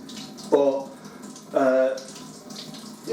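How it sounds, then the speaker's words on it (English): Home-brewed stout beer pours through the tap of a pressure barrel in a home brew kit, two gushing bursts of liquid splashing into a container with a steady background hiss between them. "I'm pouring all of this through the tap now."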